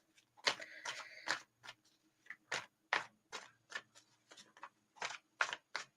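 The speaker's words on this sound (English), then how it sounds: "I'm getting told not to shuffle them as fast." Tarot cards shuffled by hand at a divination session, a quiet run of separate riffling flutters and taps spaced unevenly, close and soft with no talk.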